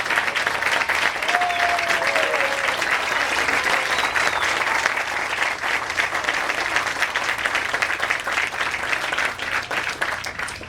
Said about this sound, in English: Please have our pilots stand and take a round of applause.